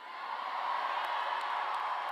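Graduation ceremony crowd at a spring bachelor's commencement cheering loudly, a dense, steady roar of many voices filling the hall, with whoops and applause.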